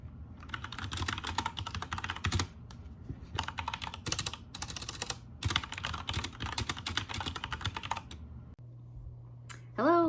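Rapid typing on a computer keyboard comes in bursts of close, crisp clicks with short pauses, then stops; a brief hum and a faint sound follow near the end.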